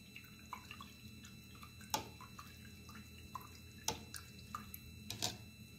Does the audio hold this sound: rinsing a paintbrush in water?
yes